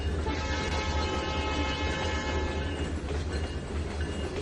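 A train rolls past in the Trainz 2019 railway simulation game, a steady loud rumble with sustained horn-like tones and a slight shift in texture toward the end.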